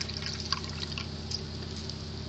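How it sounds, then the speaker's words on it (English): Water kefir is poured into a plastic mesh strainer, a soft, close trickling and dripping that stays faint and continuous throughout. "And then you pour it in here in your plastic mesh strainer"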